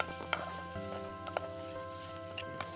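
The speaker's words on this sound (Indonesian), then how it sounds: "Kita tumis bumbu-bumbunya" Shallots, tomato and spices sautéing in a pan for scrambled eggs with sausage, a soft steady sizzle with a few light taps and scrapes of a spatula, quiet and close, no speech.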